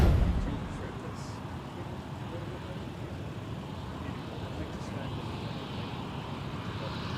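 A Sun Country airliner on an arrival from Orlando comes in at Minneapolis airport, heard as a low, steady engine rumble that stays fairly faint and even throughout.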